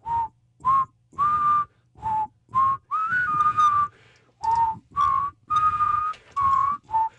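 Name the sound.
person whistling a tune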